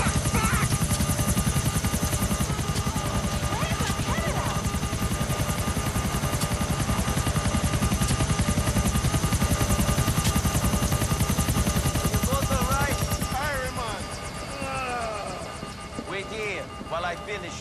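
A helicopter in Grand Theft Auto IV drones with a loud, steady rotor throb and engine whine for a long stretch. It then fades and thins near the end while voices come in.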